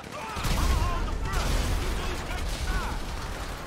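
Gunfire in the GTA 5 story-mode video game during a shootout escape: dense, continuous bursts of shots and clatter under loud, busy game noise, with voices talking over it.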